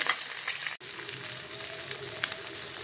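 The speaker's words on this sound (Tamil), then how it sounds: "இப்போ விரவி வச்ச மீனை அந்த எண்ணெயில் போட்டுடுறேன். எண்ணெயில் சேர்த்தாச்சு." Steady crackling sizzle of small ayirai fish frying in hot oil, dense and continuous, heard close with a brief dip in the middle.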